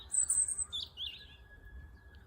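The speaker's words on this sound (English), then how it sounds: "there's little sparrows in the tree" Faint, high-pitched sparrow chirps and tweets at a distance in a tree in a park, scattered over quiet outdoor background noise.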